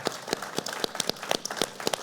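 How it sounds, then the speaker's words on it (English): Scattered applause from a small audience closing an election forum, individual claps spaced irregularly and fairly faint, no talk over it. "Let's give a big round of applause to Joe Handrick and Jim Holperin."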